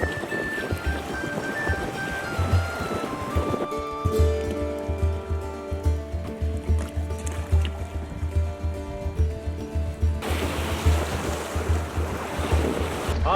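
Whitecap waves slap and splash across a wide river about a kilometre broad, driven by steady wind, with a close, choppy rhythm of lapping water and a rolling low rumble of gusts.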